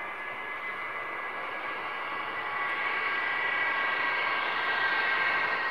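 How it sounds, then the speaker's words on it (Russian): Tu-160 strategic bombers landing at an airfield, a loud, steady jet-engine roar with a high whine that swells slightly toward the end, heard alone without speech. "Заканчиваются дневные полеты стратегов. Самолеты один за другим приземляются."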